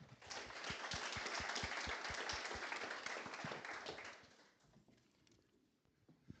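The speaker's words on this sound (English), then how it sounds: "Please join with me for the round of applause for tonight's champions and speakers" Audience applause at a live community event, a steady burst of clapping lasting about four seconds before fading into quiet room sound.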